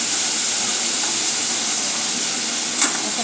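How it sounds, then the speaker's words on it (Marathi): One large finely chopped onion roasts in a pan until golden brown, giving a loud, steady, close sizzle and hiss throughout with a faint clink of stirring near the end. "1 मोठा कांदा बारीक चॉप केलेला घालत आहे। तो चांगला गोल्डन ब्राऊन होईपर्यंत आपल्याला रोस्ट करायचा आहे।"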